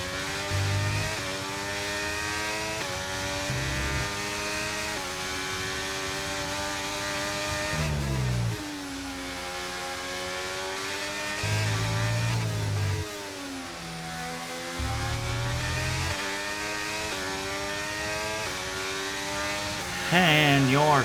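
F1 race car engines scream through the 2023 Austrian Grand Prix in the F1 23 video game, the near car's pitch rising and dropping with gear shifts and revving throughout, while a voice talks over it.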